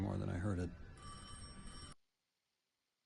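Telephone ringing in the Destiny 2 video game, a bright, clear electronic ring lasting about a second after a voice speaks, then cutting off to silence.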